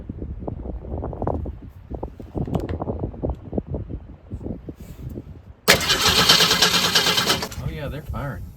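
A fuel-starved engine cranks over with a whirring, chugging rhythm, loud and close, then briefly catches into a harsh, louder run for a couple of seconds before fading, with someone talking over the cranking.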